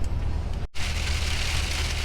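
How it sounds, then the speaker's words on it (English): Steady, heavy rain in Turkey hissing loudly, cut by a brief moment of silence before it resumes just as strong. "And we have rain. Like instantly, right? Like boom, rain."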